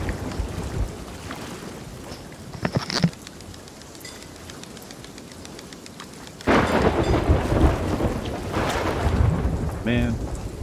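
A thunderstorm rages in the pirate video game Sea of Thieves: steady heavy rain with rolling thunder, a sharp close crack partway through, then a louder, fuller downpour.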